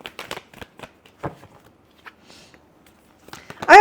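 Tarot cards are shuffled by hand in a series of soft, close riffles and flicks, quiet at first with gaps between, then ending in a louder burst of rapid card shuffling.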